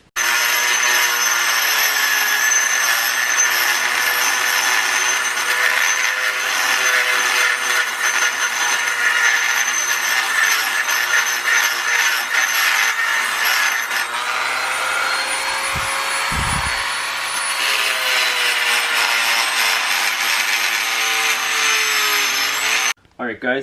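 Grinding out the staked U-joint yoke of a Toyota RAV4 with a power tool, a loud, steady, continuous whine that runs almost the whole time and shifts pitch briefly midway.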